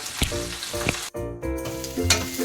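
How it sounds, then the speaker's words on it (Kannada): Ginger, garlic and onion fry in hot oil with a steady, close sizzle, broken by a short pause midway and occasional stirring; no one speaks. "ಶುಂಠಿ, ಬೆಳ್ಳುಳ್ಳಿ, ಈರುಳ್ಳಿ. ಇದು ಚೆನ್ನಾಗಿ ಫ್ರೈ ಮಾಡ್ಕೊಳ್ಳೋಣ"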